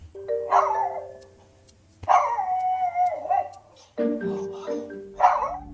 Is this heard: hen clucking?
no